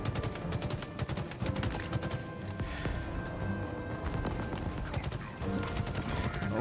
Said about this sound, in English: Oh god, who's shooting me?